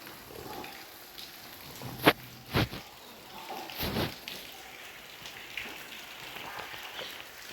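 Winter rain patters steadily on a surface in a Punjab village home, broken by a few sharp knocks and thumps nearby.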